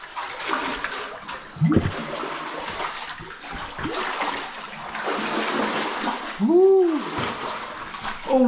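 Cold, clear water splashes and sloshes inside a crystal cave within a marble mine, with irregular close splashes, gurgles and a couple of sharper plunges against a constant wet wash.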